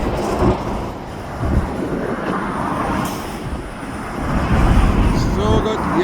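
A CNR freight train rumbling along the railway in the distance, a steady low roar with faint rail clatter and a few squeals, under outdoor ambience and occasional talk.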